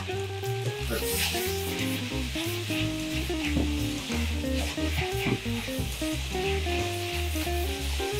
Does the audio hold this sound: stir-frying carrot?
yes